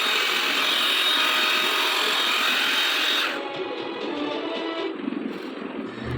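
A hair dryer from a 5-in-1 hair straightener set blows with a loud, steady, close-up airy whir that drops to a lower, softer hum partway through, with no talking.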